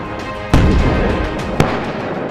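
A Type 90 main battle tank's 120mm smoothbore gun fires, a loud close blast at about half a second followed by a long rumbling decay, then a second sharp report just after one and a half seconds.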